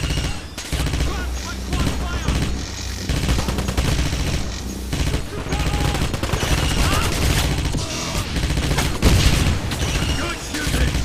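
Gunfire in the 2009 video game Wolfenstein: dense, continuous bursts of automatic weapon fire and explosive booms, loud and close throughout, with shouted voices mixed in.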